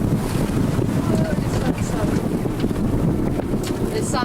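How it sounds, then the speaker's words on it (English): Offshore ski boat running on one motor while tuna fishing at sea, a steady low engine rumble blended with strong wind buffeting and splashing water, with people talking now and then. "Nick, go down onto one motor."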